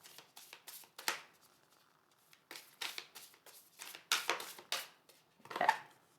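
Cards being shuffled in quick riffling bursts, several separate shuffles with short pauses between, close and crisp.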